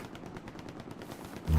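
Rapid machine gun fire in the World War II shooter Hell Let Loose rattles in a fast, even burst of close shots, ending in a louder low thump.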